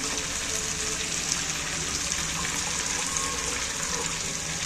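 A mug of water poured into a pan on a gas stove while chicken is cooked village style, a steady rushing splash lasting several seconds at an even level.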